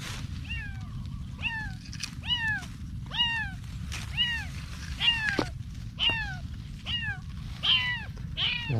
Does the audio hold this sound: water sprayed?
no